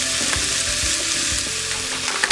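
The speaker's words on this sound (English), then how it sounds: "Now I'm going to add the Brussels sprouts." Brussels sprouts sizzling steadily in a hot pan, a loud, constant frying hiss with soft stirring bumps underneath.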